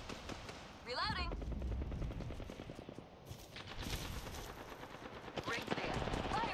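Automatic gunfire in the battle royale shooter Apex Legends rattles in dense rapid bursts through most of the stretch, loud and continuous, with a player's voice talking over it.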